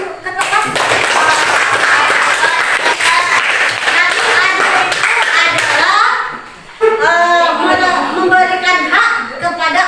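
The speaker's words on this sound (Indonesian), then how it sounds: "tepuk tangan dulu ketua kelas." Classroom of students claps for the class captain, a dense burst of close hand clapping with children's chatter, briefly easing before lively voices and cheering resume.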